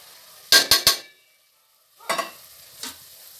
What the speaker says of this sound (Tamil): இப்போ நம்ம இதையும் வதக்கிக்கலாம்